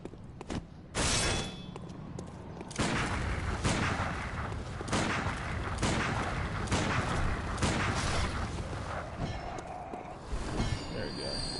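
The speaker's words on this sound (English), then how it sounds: "I can always spam pistol shots." Rapid pistol shots fired in the video game Bloodborne, a dense run of sharp, loud cracks repeating every half second or so over roughly ten seconds, with a steady game background underneath.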